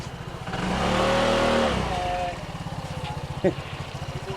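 A motorcycle engine revs up loudly nearby then settles to a pulsing idle, with people talking over it and a brief sharp knock near the end.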